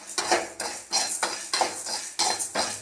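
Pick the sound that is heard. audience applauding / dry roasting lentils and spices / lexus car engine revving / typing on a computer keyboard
dry roasting lentils and spices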